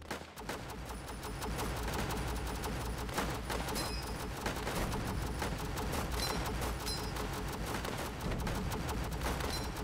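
Rapid, dense machine gun fire from machine gunners in the Northend Tower Defense game, a steady unbroken stream of shots with scattered booms mixed in, loud and continuous throughout.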